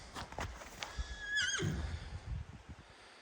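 Horses on a farm for sale whinny in one clear, rising-and-falling neigh at mid-clip, with hoof clops and shuffling around it and a person's brief remarks nearby.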